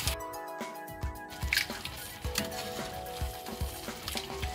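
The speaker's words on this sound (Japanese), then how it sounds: "沸騰したので麺を入れます。" Instant spicy fire noodles go into boiling water in a pot: bubbling, sloshing liquid and stirring clatter continue steadily and close up, with a faint tonal hum underneath.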